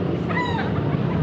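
A bullstag chicken gives a short clucking call close by, a single brief vocal burst with a faint rising tone over steady background noise.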